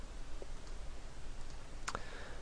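A computer mouse gives one sharp, close click during CAD work, with a fainter click earlier, over a steady low hiss.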